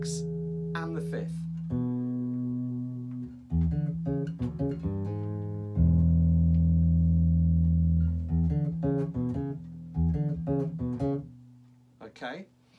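A bass guitar plays a short line of sustained, plucked notes over a dominant chord, moving root, minor seventh, major sixth and fifth, with gaps between phrases and some quick string noise.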